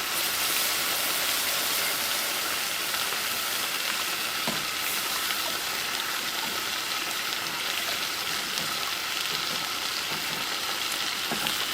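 Flour roux cooks in a pan with a steady, dense sizzling hiss that runs unbroken and fairly loud throughout, with no voices.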